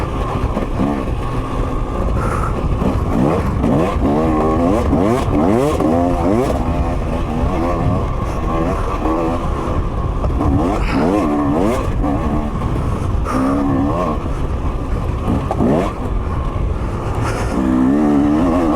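A 2023 KTM 250 XC two-stroke dirt bike revs hard while ridden over whoops, its engine rising and falling in quick bursts up close, loud throughout with no talk over it.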